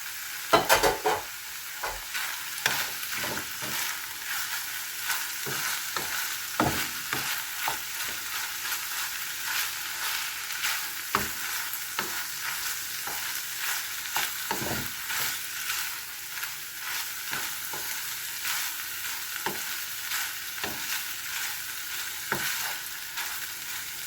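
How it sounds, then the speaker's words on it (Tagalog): Sliced eggplant fries in a pan with a soft, continuous sizzle, broken by frequent light clicks and scrapes of stirring, and no voices. "lutuin po natin ang ating talong"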